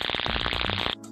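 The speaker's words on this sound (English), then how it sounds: "This is the sound of corona." Electrical corona discharge on electrical equipment picked up through an ultrasonic detector, a loud continuous buzzing crackle that abruptly drops to a quieter hum near the end.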